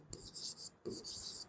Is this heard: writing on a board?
yes